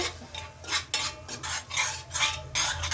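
Stirring food in an iron kadai while cooking masala, with repeated metallic scraping and clinking strokes in an irregular rhythm, close and moderately loud, with no talk.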